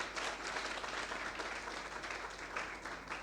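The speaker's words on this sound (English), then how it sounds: "Please, first clap for Gloria." Audience applause, a continuous faint wash of many hands clapping at a steady level with no voices standing out.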